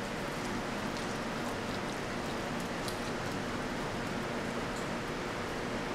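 Water saturating potting soil around a freshly transplanted clone in a plant pot, a steady, close splashing and trickling hiss that runs evenly throughout with no pauses or talk.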